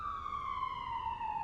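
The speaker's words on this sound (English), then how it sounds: "Oh, it's an ambulance." An ambulance siren passes down a street, its steady wailing tone sliding slightly lower as it goes by, heard alone.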